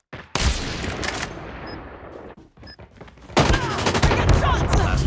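Gunfire in the mobile shooter Call of Duty Mobile during a Search and Destroy match: loud, close bursts of rapid automatic fire, a brief lull with faint clicks, then another dense volley.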